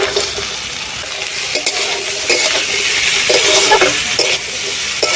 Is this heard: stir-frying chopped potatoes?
yes